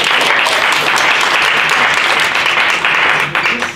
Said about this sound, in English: Keep on applauding for Virginia Vales coming up to the microphone.